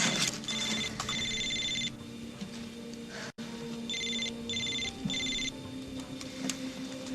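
A telephone rings in two bursts of trilling electronic tones with a pause between them, heard alone in a quiet indoor room with no talking.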